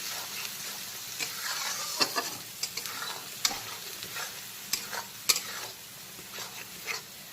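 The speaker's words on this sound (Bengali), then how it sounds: "তো পেঁয়াজের পেস্টটাকে দেওয়ার পরে বেশ কিছুক্ষণ সময় নিয়ে কষিয়ে ভাজা ভাজা করে নিয়েছি" Onion paste being slowly fried and stirred in a pan over low to medium heat, a soft steady sizzle broken by light scraping strokes and occasional sharp clinks of the spoon against the pan.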